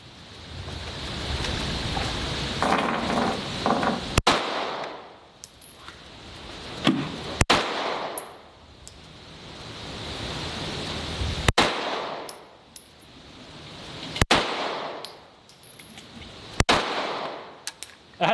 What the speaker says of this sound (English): I'm going to run a 5-shot group and see how we do on that